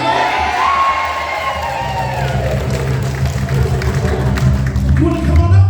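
A crowd at a community centre cheers, shouts and whoops loudly and continuously, with children's voices and scattered clapping mixed into the dense, close roar.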